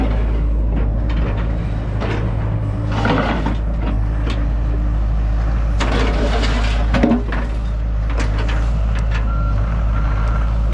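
Dump truck backing up in a front yard during a landscaping job, a steady engine drone under faint periodic reversing tones, with clunks and scrapes of loading nearby.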